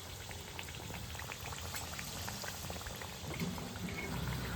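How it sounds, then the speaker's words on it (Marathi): Sabudana vadas deep-fry in oil over a low flame, a dense, steady crackling and bubbling like light rain, fairly soft and continuous with no voices. "छान आता गोल्डन ब्राऊन कलर येईपर्यंत आपल्याला याला फ्राय करायचं आहे"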